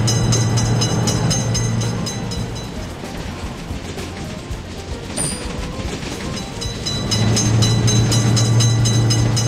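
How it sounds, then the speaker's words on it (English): A train runs through a level crossing with a lifting gate for cars, a loud steady rumble and rattle of wagons close by, easing slightly mid-pass before swelling again, with no talk over it. "Attention, train is coming."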